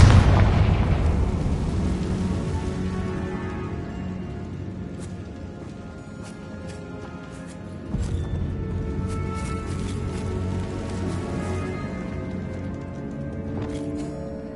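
A Confringo fire spell blasts off in Hogwarts Legacy, opening with a loud boom that rumbles down over several seconds, then a second burst hits around the midpoint and dense crackling game effects and clatter keep going after it.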